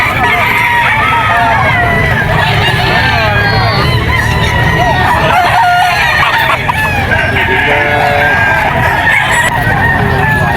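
Gamefowl roosters crow repeatedly amid a busy pet market, their calls layered with clucking and a loud, constant crowd babble while someone talks nearby.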